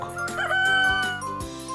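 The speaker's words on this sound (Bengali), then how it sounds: "কক ডাকে খুব ভোরে।" A rooster crows in a children's alphabet rhyme, a loud drawn-out call of a little under two seconds over steady musical backing.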